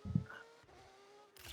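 A single quick camera shutter click takes a picture of a car in a video game, a short clack with a faint whir after it over a quiet low game hum.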